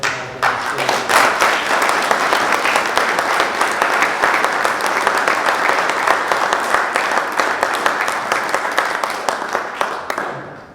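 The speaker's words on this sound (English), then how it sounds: "I would like to ask the meeting to join in a round of" An audience at an association's annual general meeting gives a sustained round of applause, with loud, dense clapping and a few sharp individual claps standing out, running for about ten seconds before ending abruptly.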